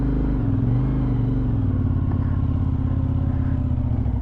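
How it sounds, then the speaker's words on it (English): Suzuki TL1000R motorcycle idles and pulls slowly out of a car park, its V-twin engine pulsing steadily and loudly up close without talk. "Now hopefully the bike won't kick me off as I get out of the car park"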